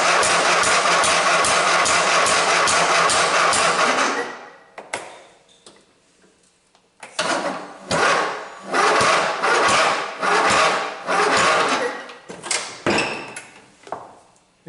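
A lawn mower engine cranks over on a weak battery, a loud rapid rhythmic chugging that stops, then several shorter, uneven cranking bursts follow after a pause.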